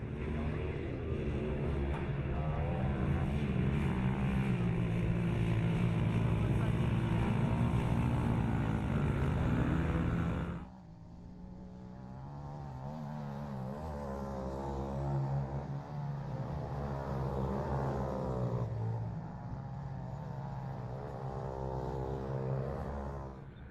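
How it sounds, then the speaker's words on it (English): Junior motocross bikes race at Wanneroo, with a loud continuous engine drone that drops sharply midway, then a more distant whine rising and falling as the bikes pass. "young Jack Lobb on machine number 16 has got away for Body Empire Clothing into the lead for the start of this one"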